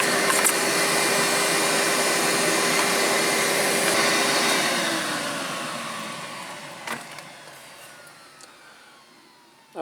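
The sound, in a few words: vacuum cleaner with small tube attachment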